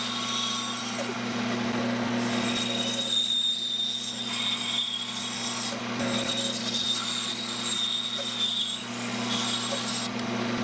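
Dremel rotary tool with a sanding drum shaping the head of a handmade lipless crankbait lure, a steady continuous grinding whine with shifting rubbing tones and no speech.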